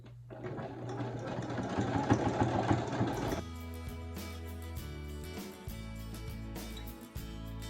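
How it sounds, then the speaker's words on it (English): A sewing machine runs a zigzag stitch along coiled rope to form a bowl, a rapid mechanical whir that slows into shorter bursts and pauses, close and clear with no talk. "we're going to sew right along here with our zigzag"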